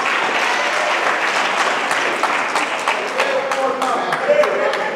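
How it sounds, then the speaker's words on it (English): An audience at a school professionalism talk bursts into sustained applause, many hands clapping loudly and steadily throughout, with a few voices calling out over it. "give that a hand clap"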